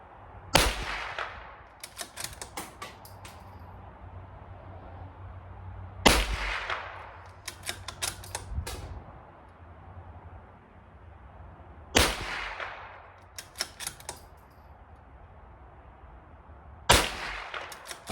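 Four .22LR shots from a Ruger Precision Rimfire bolt-action rifle at a 25-yard range, spaced several seconds apart. Each sharp crack is followed by quick metallic clacks as the bolt is cycled.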